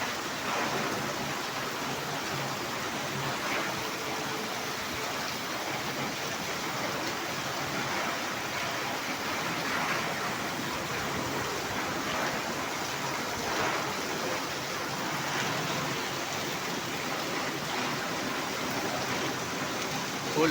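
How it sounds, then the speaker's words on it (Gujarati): A torrential downpour hammers down in a constant, thick roar of rain, steady and close from start to finish, like a rushing stream, with nothing else breaking through. "અનરાધાર વરસાદ ચાલુ છે."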